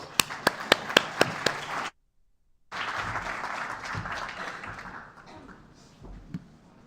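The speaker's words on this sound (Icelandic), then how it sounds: "Gefum hann gott klapp." Applause greets a presenter at an Icelandic housing development event: a few sharp claps at first, then after a short silence a fuller burst of clapping from the audience that gradually thins out.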